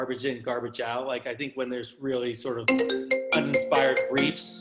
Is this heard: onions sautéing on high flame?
no